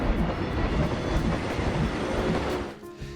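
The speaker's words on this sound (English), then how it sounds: "Is that a working train? It is." A working transport train ride in the Planet Coaster theme park game produces a continuous rolling rumble with faint rhythmic clatter, steady and fairly loud before dropping away near the end.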